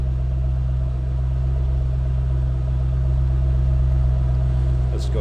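A 2007 Ford Mustang Shelby GT500 convertible idling, heard from behind the car, giving a steady low rumble with a constant tone and no change in revs across the few seconds.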